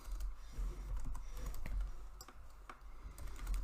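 Rapid computer keyboard typing as code is entered, a steady run of soft clicks close by over a low background hum, with no voices.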